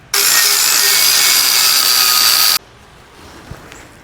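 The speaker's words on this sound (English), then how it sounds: "use the flap disc and flatten all this area out" A flap disc grinds metal flat for about two and a half seconds, a loud, steady, high-pitched abrasive whine that stops abruptly, followed by quiet room noise and a small knock.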